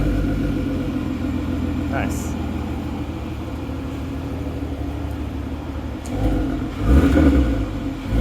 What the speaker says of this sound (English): So this is where the custom 3-inch resonated catback gets installed, and it's joined up to that Varex valved muffler. All right, so first startup